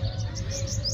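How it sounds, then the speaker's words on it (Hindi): Several birds chirp in brief, high-pitched tweets over a low steady hum in Dubai, the calls light and fairly distant. "चिड़ियों का कितना अच्छा शोर आ रहा है ना"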